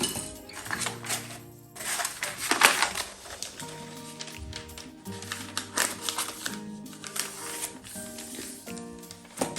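Paper being folded and creased around a book to make a cover: crisp rustles, crinkles and sliding sheets in irregular bursts, close and moderately loud, with a faint tonal hum underneath.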